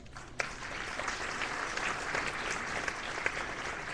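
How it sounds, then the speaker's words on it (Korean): An audience at a world knowledge forum applauds to welcome presidential candidate Chung Dong-young, a continuous fairly distant wash of many hands clapping, moderately quiet and steady. "뜨거운 박수로 환영해 주시기 바랍니다"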